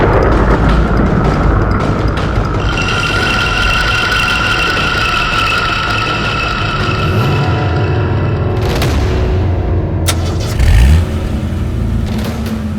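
A car engine runs loud and close after being repaired, a steady droning rumble that swells into a brief rev near the end.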